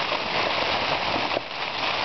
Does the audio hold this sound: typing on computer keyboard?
no